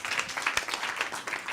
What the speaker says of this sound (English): Well, applause.